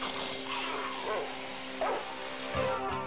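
A cartoon dog gives a few short barks and yips over a steady background hum and soundtrack bed, the barks spaced irregularly across the moment.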